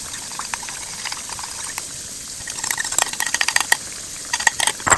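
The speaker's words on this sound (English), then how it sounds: "So we're just gonna add this starch slurry that I've made." Starch slurry being stirred into simmering jjajang sauce in a pot, with quiet bubbling under a run of light spoon scrapes and clinks that get busier and louder toward the end.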